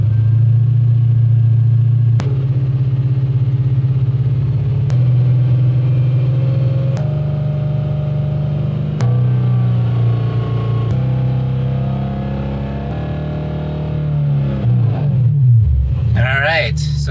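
A car engine with a VF Engineering supercharger and E85 tune hums at idle, then climbs in steps through higher revs with a deep, steady drone, finishing in a louder rising roar.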